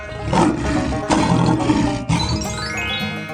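Loud lion roar from a 3D animal slide video game, one sustained growling roar lasting several seconds over steady game music, with a chiming jingle rising near the end and no talk.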